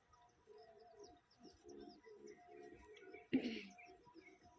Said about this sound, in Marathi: किती भारी वाटत चिमण्या कशा खाली बसतात बघा त्या.